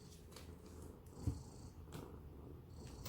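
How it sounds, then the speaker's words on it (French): A domestic cat purring softly and continuously, very close but quiet, a low steady rumble with a brief louder thump partway through. "Et ça ronronne, et ça ronronne."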